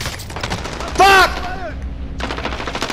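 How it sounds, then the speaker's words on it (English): Rapid video-game gunfire from an assault rifle in a loud burst at close range, with harmonic tones ringing over a busy game background, followed by continuing lower clatter. "Taking fire!"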